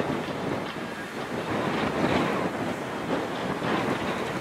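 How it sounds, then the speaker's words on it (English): A Jupiter replica steam train rolls through a road crossing in Utah on a cold, very windy day, heard as a steady broadband rumble and roar blended with gusting wind buffeting the microphone, with no one talking. "The Jupiter replica just went through the crossing over here."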